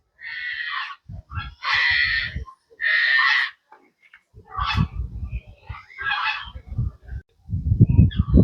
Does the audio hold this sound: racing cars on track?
no